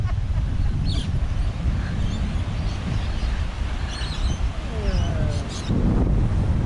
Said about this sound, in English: Just a tad windy!